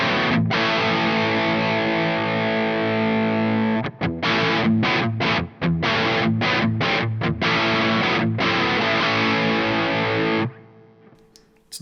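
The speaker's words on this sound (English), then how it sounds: "we get a little bit more of a vintage style, kind of bluesy room style reverb" A distorted electric guitar plays through a Coffee Shop Pedals Cortado reverb pedal set to a vintage bluesy room style, loud sustained chords with rhythmic choppy breaks before ringing out into a reverb tail.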